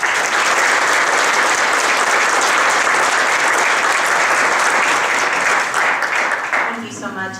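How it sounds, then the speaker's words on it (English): An audience at a community appreciation event gives sustained applause welcoming the mayor, dense clapping filling the room for several seconds before it tapers off and a voice begins. "So please join me in a round of applause"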